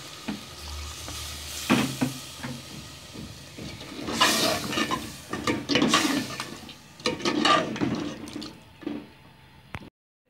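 Water is poured into a pot of cooking chicken and potatoes on a village cooking fire, bringing bursts of hissing, sizzling and splashing along with stirring scrapes that swell and fade over several seconds, with no voices.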